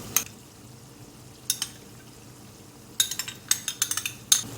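Metal spoon clacking against a pan while whisked curd is stirred into a tomato masala, a couple of isolated knocks followed by a quicker run of scraping taps, close and clear with no talking.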